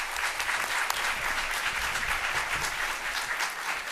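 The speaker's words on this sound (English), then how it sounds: "Let's give them another round of applause." Sustained audience applause at a DeKalb animal awards event, a dense, even wash of many hands clapping at steady loudness throughout, with no break.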